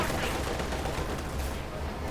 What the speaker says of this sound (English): Stuka fire there.